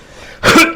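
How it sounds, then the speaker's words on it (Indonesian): A person coughs while eating spicy food, a short burst of harsh coughing after a quiet moment, close and loud, with a second cough starting right at the end. "Sampai terbatuk-batuk."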